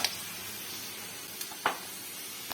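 Potatoes fry for aloo bhaja in a pan with a faint, steady hiss of oil and a few sharper pops and crackles scattered through it, heard alone and fairly quiet.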